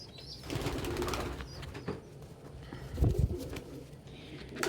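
A tall young human-raised pigeon gives soft coos mixed with a brief burst of wing flapping, close by and fairly quiet.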